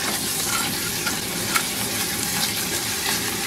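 Sizzling banana mixture in a copper-bottomed pot on a boat stove is stirred, giving a continuous frying hiss with faint scraping, steady and moderately close.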